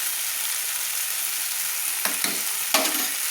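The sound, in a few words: spice paste and coriander powder frying in oil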